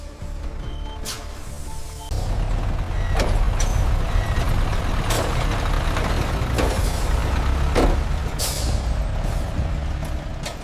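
A truck backs up slowly and sets its air brake. A loud, steady engine rumble fills the scene, with sharp bursts and hisses of air cutting through at intervals.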